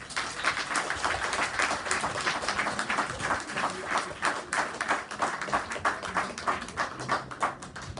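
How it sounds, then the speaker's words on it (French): An audience at an inauguration ceremony for a senior transport service in Basse-Pointe, Martinique, keeps up steady, dense applause throughout, a continuous patter of many hands at an even level. "Encore des applaudissements de nous, M. Carrel."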